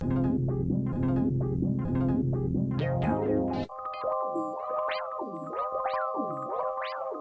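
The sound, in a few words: synth through guitar-style effect pedal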